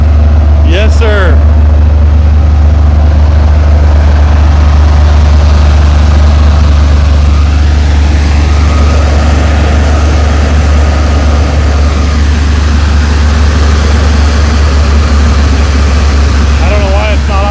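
A 1962 Corvair Rampside engine idles high and steady, a loud, close, continuous rumble throughout, with voices talking briefly over it.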